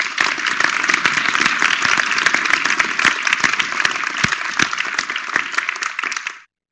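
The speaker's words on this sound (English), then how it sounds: "Let's give Ryan a big round of applause." An audience at a Startup Grind Utah event applauds Ryan Smith of Qualtrics, steady loud clapping from a sizable crowd that carries on for about six seconds before cutting off abruptly.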